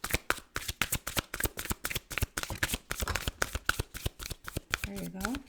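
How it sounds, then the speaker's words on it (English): A deck of tarot cards is shuffled in rapid, rhythmic riffling bursts that run steadily throughout, close and crisp, with a voice briefly speaking near the end. "sometimes we just need to shuffle a bit"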